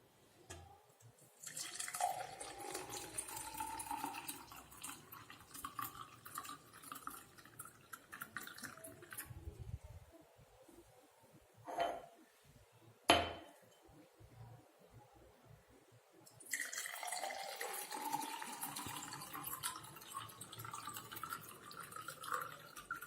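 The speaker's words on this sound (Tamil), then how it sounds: "இப்போ நம்ம வச்சிருக்கிற ஜூஸை அதில் ஊற்றலாம்." Cucumber lemon juice is poured into a drinking glass, giving a steady trickling, splashing stream. It breaks off in the middle with a couple of clinks, then resumes for a second pour. The sound is close and quiet, with no talk.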